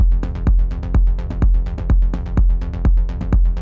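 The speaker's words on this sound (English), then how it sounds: "we have this hybrid low end" Hybrid low-end drum hit built from a shortened, EQ'd tom, repeating in a steady pulse about every half second, with layered percussive clicks between the hits, punchy and close with no voices.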